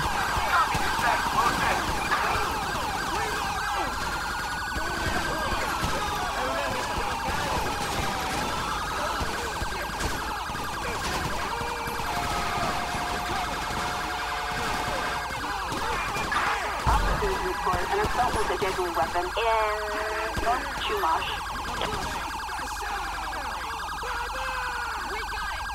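Police car siren in the game GTA V with the LSPDFR police mod, a continuous wailing tone running loud and steady throughout, with brief scattered game noises and occasional talk mixed underneath.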